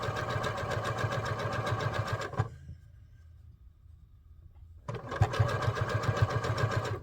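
Sewing machine running in two steady bursts while stitching a maple leaf fall garden flag, with a brief pause between the rapid, close, rhythmic runs.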